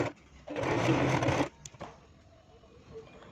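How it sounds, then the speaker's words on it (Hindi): A sewing machine stitching through folded fabric, one loud rapid whirring burst lasting about a second, followed by a few soft clicks and handling sounds in a quiet room. "अब फोल्ड करके दोबारा सिलाई कीजिए"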